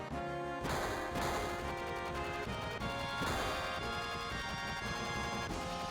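Gunfire during the battle for Sector 7 in Final Fantasy VII, a few heavy blasts over loud, dense game music and rumbling effects that fill the whole stretch.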